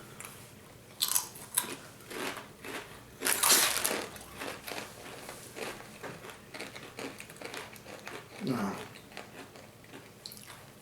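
Crunching bites of Takis Zombie Nitro tortilla chips, close, irregular crisp crunches and chewing with a few louder bursts, a voice talking faintly between bites.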